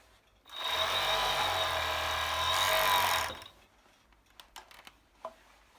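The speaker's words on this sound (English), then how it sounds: "I will now finish it with an overlock." An overlocker runs steadily for about three seconds, finishing and trimming the fabric edge of a summer dress, with a loud continuous mechanical whir that stops abruptly, followed by a few faint clicks and handling noises.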